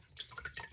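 Water dripping and trickling from a synthetic plastic-hair wig being wrung out over a sink, a close, irregular patter of drops.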